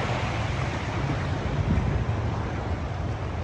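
Ocean surf rolling onto a Houston beach, a steady broadband wash of waves mixed with wind buffeting the microphone, continuous and fairly loud with no clear individual breaks.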